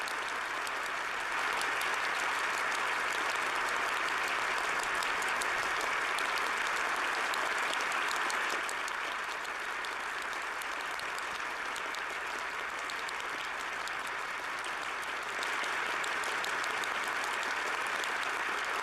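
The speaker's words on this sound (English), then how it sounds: "Wow, that is so much applause." A large audience applauds without letup, a dense wash of clapping that holds loud for the whole stretch, with only a slight dip partway through.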